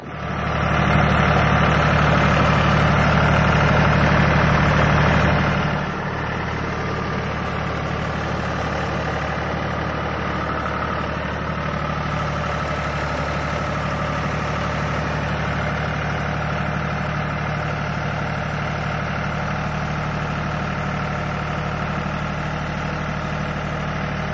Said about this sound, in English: So the new tractor handled the wood like a pro.